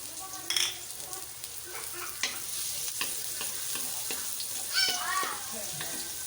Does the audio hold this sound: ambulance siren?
no